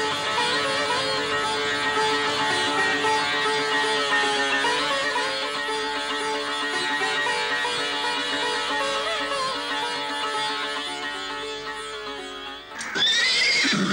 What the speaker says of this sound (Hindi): मेरे पास सबसे अच्छे ये दो घोड़े हैं